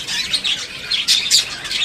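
Budgerigars and zebra finches chirping in a home aviary, a busy run of close, bright overlapping tweets and squawks with no talking.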